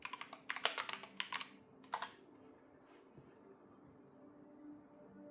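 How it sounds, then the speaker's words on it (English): Fast bursts of clicky keystrokes on a computer keyboard, loud and close for the first two seconds, then a pause and a few scattered taps before a quiet room hum takes over. "You want to type it in?"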